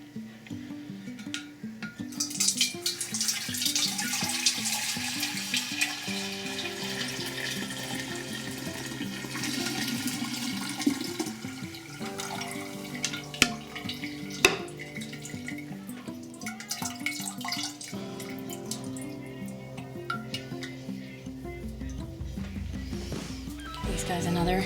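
Persimmon wine mixture being strained, wet splashing and dripping of liquid running steadily through a strainer, with a person talking over it throughout.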